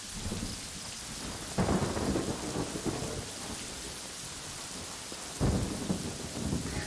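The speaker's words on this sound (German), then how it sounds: "ein Gewitter überfällt uns" A thunderstorm in the game Yonder: steady heavy rain with two loud thunder rumbles, one early and one late, rolling over the constant downpour.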